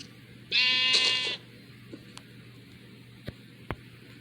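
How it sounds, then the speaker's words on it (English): Sheep in Minecraft Bedrock Edition gives one short, bright bleat, loud and close, followed by faint scattered clicks over a low steady hum. "if I want to add another sheep to the flock"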